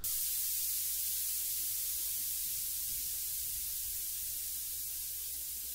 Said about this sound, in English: use some white noise with the drop